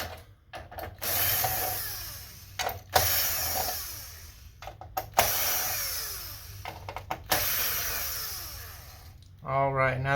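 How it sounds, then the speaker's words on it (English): A small electric screwdriver whirs in repeated short bursts as it backs screws out inside a PlayStation 5 console during a power supply swap, with brief pauses between the runs and a voice speaking near the end. "there's a couple screws that we need to take out here"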